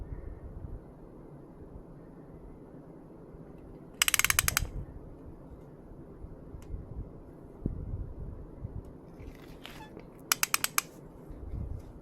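Torque wrench working on a Ford Focus XR5 coil and spark plug, short bursts of sharp ratcheting clicks, one early and a quicker series near the end, against a quiet garage background.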